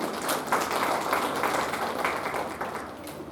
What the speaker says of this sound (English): please give a big round of applause to CPOM